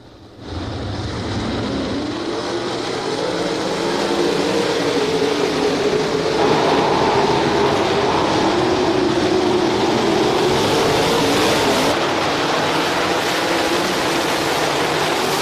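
Several 360 sprint cars race around a dirt oval at Ohsweken Speedway on a Friday night, a loud, continuous engine roar that builds after a quiet start and holds steady throughout, with no talk.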